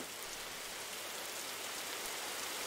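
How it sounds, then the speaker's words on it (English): Heavy rain from a software weather scenario hisses as a steady, dense wash of drops, even and continuous throughout, fairly quiet overall with no voices. "It's going to heavy rain again."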